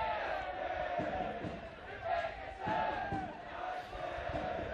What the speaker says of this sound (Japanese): 試合開始とともに両チームの応援 歓声が好ましておりますここ湘南 BMW スタジアム平塚